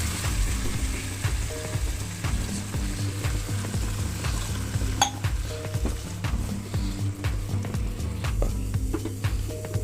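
Tomato and onion paste sizzling in a cooking pot for Kashmiri chicken kebab, a continuous close frying hiss with occasional utensil clinks and a low steady stove hum underneath, no speech.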